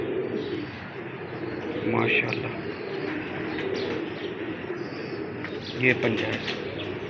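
Pigeons cooing softly in a loft while someone talks over them, low murmuring coos with a few brief chirps and a short flutter, fairly faint beneath the voice.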